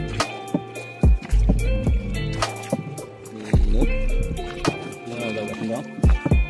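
A boat on the Brahmaputra River in Assam gives repeated hollow knocks and splashy thuds at an uneven rhythm, close and fairly loud, with people talking throughout.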